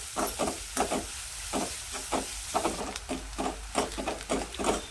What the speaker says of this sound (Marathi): आता यामध्ये घालणार आहे मी बारीक चिरलेला कांदा कांदा हलकासा आहे ना गुलाबीसर करून घेऊया